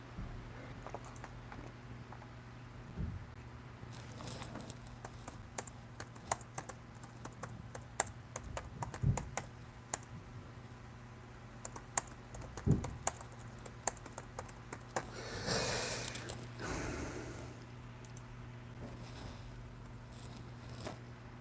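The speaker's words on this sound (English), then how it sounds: "When I'm ticked off, I make mistakes in typing." Steady typing on a computer keyboard, with quick irregular clicks and occasional louder key strikes running throughout over a faint constant hum, no talking heard.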